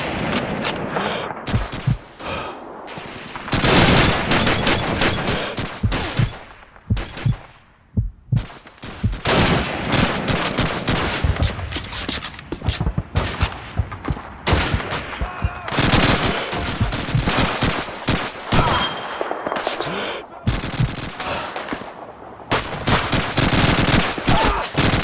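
Heavy battle gunfire from Call of Duty 2's WWII Rhine crossing: rifle and machine-gun bursts crack loudly in waves with brief lulls, and voices shout orders amid the shooting.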